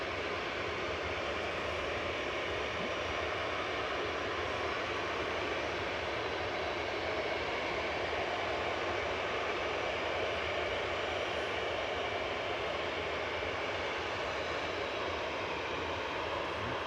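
Jet aircraft at Manchester Airport, heard as a steady, loud broadband roar that holds unchanged throughout with no voices.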